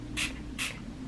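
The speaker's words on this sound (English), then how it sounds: "the first thing I like to do is I like to spray some on my face." Primer setting spray misted onto a face from close range, two short hissing bursts about half a second apart.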